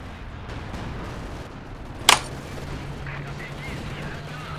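A mortar round fires once in the video game Company of Heroes 2, a single sharp blast midway through over a low rumbling battlefield background, with a player's voice faintly present.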